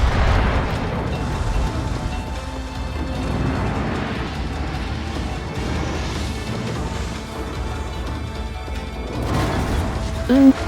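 Main guns of the battleship Borodino fire in World of Warships, heavy booming blasts with rumbling shell and ocean game sounds, a sharp burst near the end.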